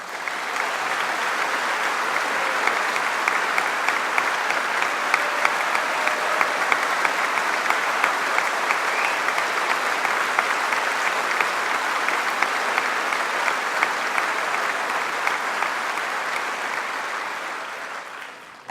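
A Labour Party conference audience applauds in a long, dense, steady roar of clapping that holds evenly throughout and tapers off at the very end.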